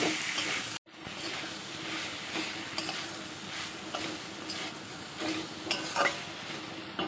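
Onion and garlic sauté in a hot pan with steady sizzling and stirring scrapes throughout, broken by a brief dropout near the start, close and fairly loud with no talk.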